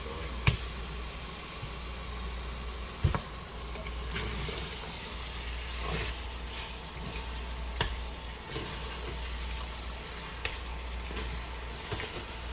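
Goat meat searing in a pot of curry goat base, a steady low sizzle running throughout with a few sharp clinks of a stirring spoon against the pot, no talking.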